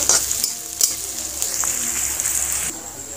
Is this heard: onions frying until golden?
yes